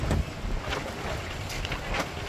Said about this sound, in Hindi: आंधी आ गया